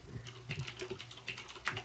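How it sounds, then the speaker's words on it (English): Rapid clicking keystrokes on a mechanical keyboard during a Team Fortress 2 match commentary, steady irregular patter of close, moderately quiet key presses. "Ignore the mechanical keyboard, folks."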